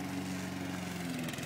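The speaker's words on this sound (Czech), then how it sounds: "to vrčení například způsobuje Mates, který seká," Lawn mower cutting grass nearby, a steady low engine drone with a constant hum and no breaks, heard on its own at moderate loudness.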